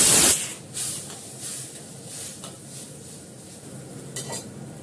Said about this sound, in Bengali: ডাল দিলাম,